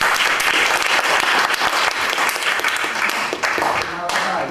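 An audience gives sustained, loud applause for Pak Hartono at a class event, a dense wash of many hands that thins slightly toward the end.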